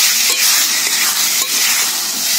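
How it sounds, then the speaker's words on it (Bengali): Parboiled potatoes sautéing in hot oil in a pan, a loud, steady close-up sizzle with faint stirring scrapes throughout. "আলুটাকে দিয়ে আমি ভালো করে একটু কষে নেব"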